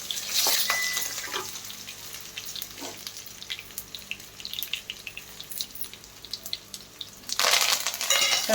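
Asafoetida tempering for a raw mango pulihora spits in hot oil in a pan, with a bright crackling sizzle that flares loud at the start and again near the end, settling to a quieter hiss in between.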